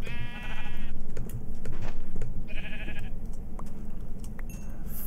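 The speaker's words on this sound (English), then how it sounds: "There's plenty of sheep." Minecraft sheep bleat twice, with a long wavering cry at the start and a shorter one midway, both over a busy game background with light clicks and taps.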